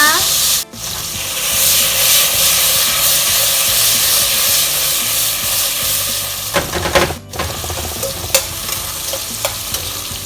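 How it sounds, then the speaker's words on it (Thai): Boiled mushrooms stir-fried with chopped garlic in oil in a pan: loud, close sizzling with brisk, rhythmic scraping and tapping of a spatula, briefly pausing twice, no speech. "จากนั้นเราก็นำเห็ดที่เราต้มเมื่อกี้ลงไปผัดนะคะ"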